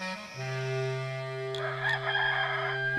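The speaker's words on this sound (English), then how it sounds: "Immediately a rooster crowed" A rooster crows once, a long drawn-out call heard at a moderate distance over a low steady background tone.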